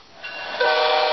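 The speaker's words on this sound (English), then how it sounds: "there we have a steam engine sound. And it'll keep running the same loop" A steam engine sound effect played by an Arduino on a small BoeBot-based robot steam train swells into a loud, continuous whistle-like tone with a hissing rush, without any talking.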